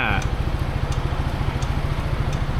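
A 2025 Zontes 368G motorcycle idling nearby, its engine giving a rapid, steady, throbbing low putter with faint crackle, while a person talks over it.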